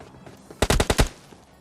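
Rapid automatic gunfire in the mobile shooter PUBG Lite, a tight cluster of about five loud, sharp bursts over half a second, standing alone against a quiet background.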